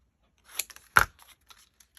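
Scissors cutting paper scraps for a craft journal, a few crisp close snips with one louder cut in the middle and faint rustles after, no talking.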